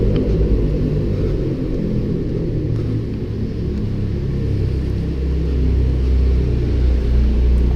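A Ford Focus ST with a COBB shift plate circles nearby with its wheels spinning, producing a loud, continuous low engine rumble and roar that swells slightly toward the end.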